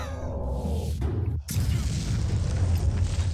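A missile launcher weapon fires in a video game, a loud booming blast after a brief rising whoosh, followed by a sustained roaring rumble that stays close and heavy.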